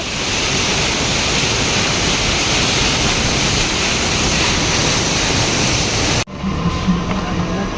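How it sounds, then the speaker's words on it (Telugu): A powerful waterfall on the road to Badrinath roars in a dense, steady rush close by, then cuts off abruptly near the end, leaving quieter background noise. "వాటర్ ఫాల్ అయితే మామూలుగా లేదు జబర్దస్త్ పడుతుంది"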